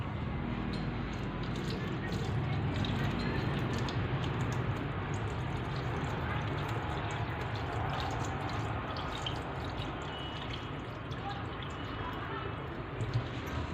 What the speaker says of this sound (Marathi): पाणी देऊया आपण ओतून